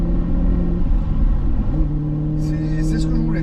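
A car's exhaust rumbles steadily up close while the driver shifts gears at about 2500 rpm, the low engine drone dipping and settling between gears as someone talks over it.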